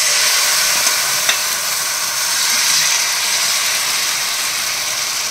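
Food sizzles in a frying pan as a few pieces are fried for breakfast, giving a steady, close, loud hiss with a couple of faint clinks.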